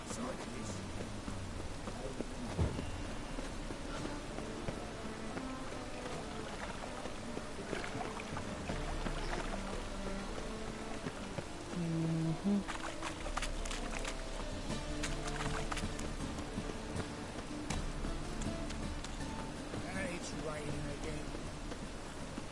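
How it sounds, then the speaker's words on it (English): Steady rain falling in Novigrad in the video game The Witcher 3, a constant soft hiss throughout, with someone talking over it and a few faint clip-clop steps. "It's raining again."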